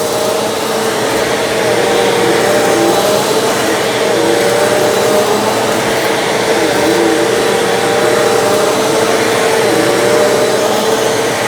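A Bissell vacuum cleaner, CleanView Swivel or Compact Turbo, runs steadily on a floor, its loud constant motor whine holding an even pitch throughout with no talking.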